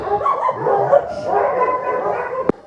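A dog at an animal shelter yips and whimpers, high and insistent, ending with a sharp knock near the end.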